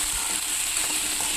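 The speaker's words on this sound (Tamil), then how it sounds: "இது நல்லா கொஞ்சம் நல்லா டீப்பாக நம்ம ஃப்ரை பண்ணி எடுத்துக்கலாம்." Potatoes deep-fry in oil in a pan, giving a continuous, close, bubbling sizzle with no voices.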